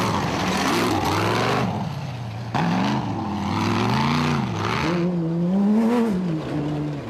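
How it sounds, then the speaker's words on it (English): A Bat Venom rally race car from Motorrad Racing pulls away at the start of the 2013 Nkomazi 400, its engine loud and close, revving up and down through several gear changes over seven seconds. "First out, reigning champions Evan Hutchison and Donnie Stassen from Motorrad Racing in the Bat Venom."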